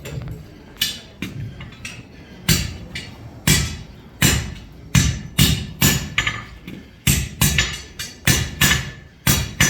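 Close, loud hammer blows ring on hot steel while a Dutch oven lid lifter is forged, landing in uneven bursts of two or three strikes with short pauses between them. The blows are sharp and metallic, and no one talks over them.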